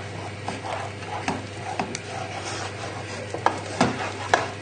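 Milk being stirred into mashed potato for a fish pie: soft, wet spoon scrapes and squelchy stirring strokes repeating irregularly, close and moderately quiet over a low steady hum.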